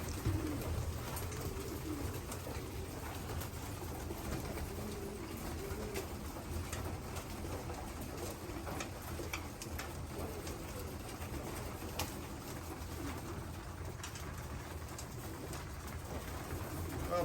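Young racing pigeons coo steadily inside a loft fitted with a lighting system, a dense, continuous murmur of soft calls with occasional wing shuffles throughout, heard up close and without any talk.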